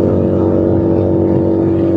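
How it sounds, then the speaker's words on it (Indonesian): A Keeway SCR 250 motorcycle fitted with a Rez Speed aftermarket exhaust idles loud and close, a steady deep throbbing rumble that holds even throughout. "Makin kesini suara knalpotnya makin enak aja coy."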